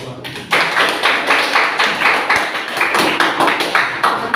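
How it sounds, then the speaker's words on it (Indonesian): An audience at a vocational high school presentation claps in a dense, steady patter that starts abruptly and carries on evenly and fairly loud to the end. "Tepuk tangan lagi"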